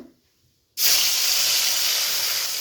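Fish slid into hot oil in a wok, a near-silent moment broken by a sudden loud burst of sizzling that settles into a steady, close, hissing fry.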